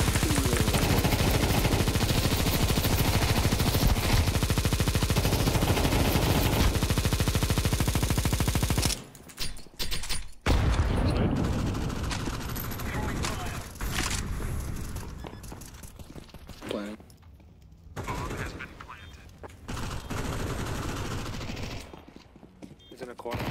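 Video game gunfire in a Faceit shooter: a dense, loud burst of rapid automatic shots runs continuously, then breaks into scattered shots and bursts with pauses, as someone talks over the action.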